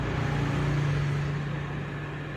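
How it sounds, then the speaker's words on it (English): Steady road traffic rumbles past on a street in front of a shop, a continuous low engine drone with a faint hum, fairly close and without voices. "There's a lot of traffic going by on New Main Street in front of the shop"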